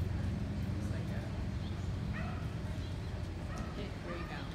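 Small dog yipping and whimpering in short bursts, fairly close, over a steady low background rumble, with people talking nearby.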